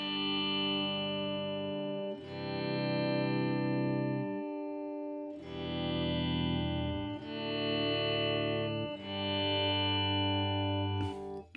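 Electric guitar chords pass through a polyphonic ambient effects pedal, sustaining and swelling into long blended washes. Four strummed chords each ring for about two seconds, then fade out after a long decay.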